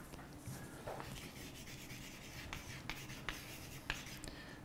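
Chalk writing on a board during a mathematics lecture on algebraic varieties, faint scratchy strokes with a few sharper taps, heard alone in a quiet room.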